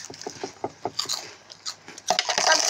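Crunchy food is chewed up close, with irregular crisp bites and crackles that grow louder and denser toward the end.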